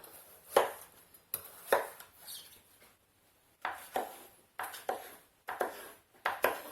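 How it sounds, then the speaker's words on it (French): Knife chopping courgette and potato into large chunks on a cutting board, with about a dozen crisp, close thuds coming singly and in quick pairs, separated by short quiet gaps. "Je vais couper tous les légumes en très gros morceaux."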